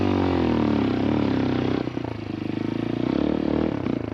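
A light CF Moto Papio CL off-road motorcycle climbs a small hill, the engine revving loudly up close, briefly dropping as the clutch is worked, then surging again with some clatter and scraping.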